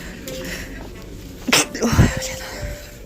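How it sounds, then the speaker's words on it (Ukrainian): A single sharp sneeze bursts out in a clothing shop near the fitting rooms, followed by a short rustle and a lower breathy catch, over a steady background hum of the store. "Зараз чихну."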